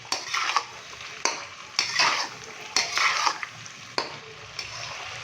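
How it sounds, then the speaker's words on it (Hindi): Beef stir-fried in cooking oil in a karahi, soft sizzling under a series of loud metal utensil scrapes and clanks against the pot, several strokes a few seconds apart, close and with no talking. "ऑयल डालने के बाद इसको अच्छे से मिक्स करेंगे और ऑयल के साथ हम बीफ की अच्छे से भुनाई कर लेंगे"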